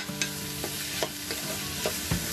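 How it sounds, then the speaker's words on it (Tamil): Onions and cauliflower frying for pav bhaji, a steady close sizzle with a spatula scraping and stirring through the pan in regular strokes about every half second. "வெங்காயம் எல்லாம் நல்லா வதங்கிருச்சு."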